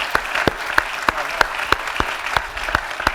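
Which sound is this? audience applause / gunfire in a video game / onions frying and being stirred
audience applause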